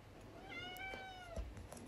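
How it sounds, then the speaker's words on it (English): A cat meows once indoors in the background, a drawn-out, slightly rising and falling cry heard faintly over a low room hum, with no talking. "If you can hear meowing in the background."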